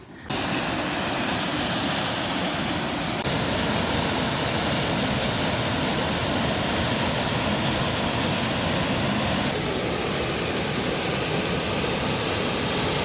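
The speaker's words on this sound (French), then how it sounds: "On peut s'approcher de la cascade" Waterfall at the Sources de l'Infernet on a hike, a loud, steady, full roar of falling water heard up close and continuing without pause.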